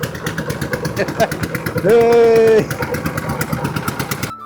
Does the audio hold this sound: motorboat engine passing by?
yes